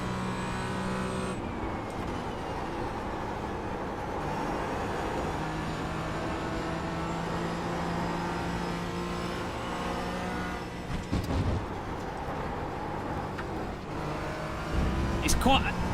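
A Porsche race car in iRacing's Porsche All Stars at Road Atlanta drones steadily with a sustained engine tone, a few brief bumps and shifts near the end, while someone talks over it.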